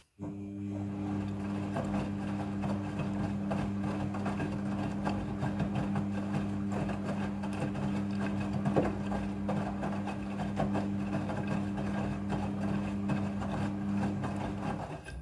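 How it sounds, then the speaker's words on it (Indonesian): Front-loading washing machine during its rinse cycle, filling water automatically: a continuous low mechanical hum with steady tonal whine and faint rattling, evenly sustained at moderate level throughout. "Pada proses pembilasan dengan air, mesin cuci akan mengatur jumlah kebutuhan air secara otomatis."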